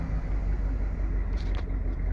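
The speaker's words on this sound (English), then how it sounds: "revving up, I'm not sure if you can see this, it's in my hand, revving up in park." Car engine revved while the automatic gearbox sits in park, a steady low rumble heard close with a brief rise partway through, no talk.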